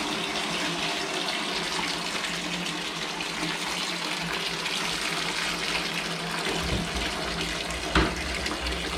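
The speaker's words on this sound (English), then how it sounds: "Just get a bunch of water going." Tap water gushes steadily and loudly into a container while filling a betta fish tank, a constant close rushing wash with a brief knock near the end.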